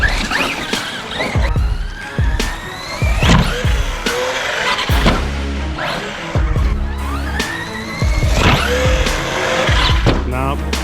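A Redcat Kaiju EXT radio-controlled car on a 4S battery at full throttle, its electric motor whining up and down in rising sweeps with tire scrub and bumps, while people talk and exclaim throughout.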